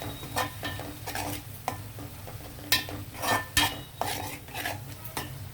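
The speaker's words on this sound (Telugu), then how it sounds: "కారం వేసుకున్న తర్వాత కొద్దిసేపు వేగనిద్దామండి" Chili powder frying in a pan as the base for a stuffed brinjal curry, a soft sizzle broken by repeated metal spoon scrapes and clinks against the pan at an uneven pace.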